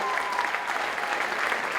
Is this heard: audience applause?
yes